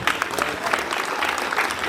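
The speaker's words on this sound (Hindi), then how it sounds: "तालियां बोलो, वही उनका खुराक है" Audience applause at a school Republic Day (26 January) program, a short burst of dense clapping with faint crowd murmur, steady and fairly close throughout.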